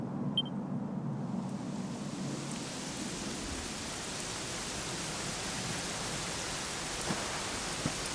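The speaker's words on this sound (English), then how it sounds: "it was raining like this the last time I ever saw her" Rain pours steadily in the Dragon Quest XI video game, a soft continuous hiss of falling water with occasional faint drops, no talking.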